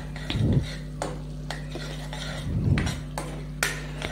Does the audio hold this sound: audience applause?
no